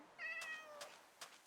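A Minecraft cat gives two or three soft, close meows in quick succession, alone against a quiet background.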